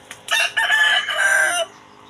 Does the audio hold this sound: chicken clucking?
yes